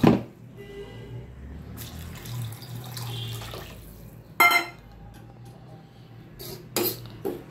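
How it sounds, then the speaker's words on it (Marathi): Water splashes and trickles while being poured into a cooking pot with soaked finger millet, in soft uneven bursts with a few louder splashes near the middle and end. "आता पाणी टाकूया आपण,"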